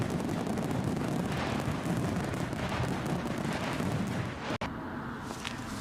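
Fireworks crackle and boom in a continuous dense roar during an aviation livestream, loud and sustained before cutting off abruptly near the end, then a quieter rumble remains.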